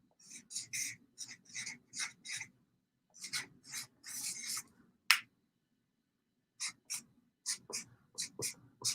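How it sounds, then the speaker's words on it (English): Pen or marker strokes drawing a page layout by hand on paper, a run of short scratchy rubbing bursts in quick clusters with brief pauses, close and fairly quiet, with no talking. "Let me draw it for you."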